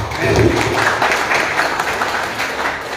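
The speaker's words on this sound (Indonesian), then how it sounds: "berikan tepuk tangan untuk kemuliaan nama Tuhan" Applause from a congregation at an 89th birthday thanksgiving service, a dense, steady patter of many hands held at an even level for the full stretch with faint voices mixed underneath.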